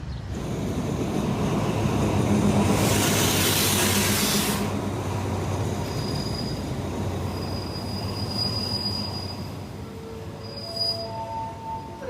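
A train pulling into a station platform in Thailand, a loud, close, steady rumble of wheels on rail with a burst of hissing, then long high squeals of wheels and brakes as it slows to a stop.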